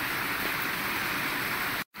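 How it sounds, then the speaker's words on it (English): Rain falls steadily in Chhomrong village on the Annapurna trek, an even, dense hiss with no voices that cuts out briefly just before the end. "It has started to rain."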